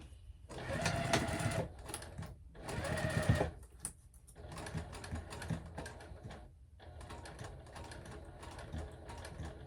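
A sewing machine stitches slowly through thick fabric for a clutch bag in several runs of rapid mechanical chatter broken by short pauses, close and moderately loud.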